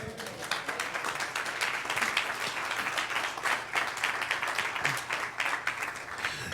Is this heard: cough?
no